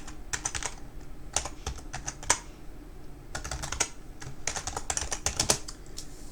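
Quick bursts of keystrokes on a computer keyboard while entering a command at a command prompt, close and fairly quiet, coming in irregular clusters separated by short pauses.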